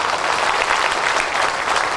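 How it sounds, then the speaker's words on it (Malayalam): A church convention congregation claps together in praise of the Lord, a dense, even wash of many hands sustained without pause and with no one speaking. "ഒന്ന് കൈയടിച്ച് കർത്താവിന് നന്ദി പറഞ്ഞു"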